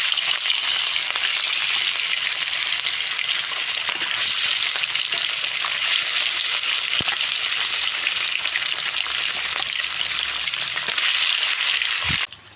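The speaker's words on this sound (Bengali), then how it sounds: "এখানে তেলটা আমার গরম হয়ে গিয়েছে। এখন আমি মাছগুলো দিয়ে দেব।" Rohu fish fry in hot mustard oil, making a loud, dense, continuous sizzle that stays constant throughout, with a few faint utensil taps and no voices.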